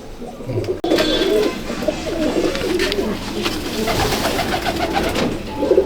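A chorus of racing pigeons coos steadily and close, overlapping rolling throaty calls at a Kolkata pigeon flying match, after a brief thump near the start, with no voices.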